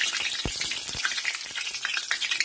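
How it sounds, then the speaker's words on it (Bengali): Bay leaves and dried chillies sizzle in hot oil as a spice tempering, giving a bright, continuous crackle close by, broken by a few sharp stirring knocks. "এবার আমি ফোড়নগুলো দিয়ে দিলাম।"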